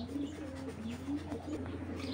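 A big male Army-breed tournament giribaz pigeon coos in a steady, low rolling murmur close by, soft repeated pulses running throughout over faint background hiss.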